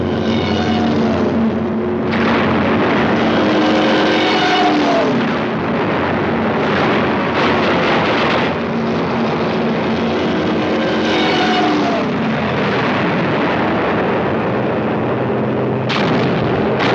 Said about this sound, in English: the airfield which our parachutists had taken was already under attack from the Luftwaffe